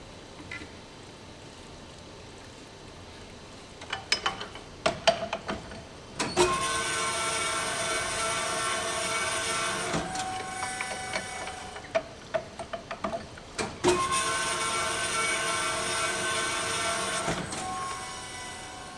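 A honing machine with a fine stone works Pontiac connecting rods, with an ongoing mechanical hum and clicks punctuated by two longer stretches of louder grinding drone.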